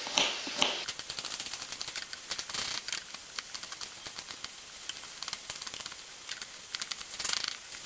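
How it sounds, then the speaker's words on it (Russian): A knife chops garlic on a cutting board in a dense run of quick, close taps, with a faint background sizzle from zucchini frying in a pan. "Продолжаю измельчать чеснок."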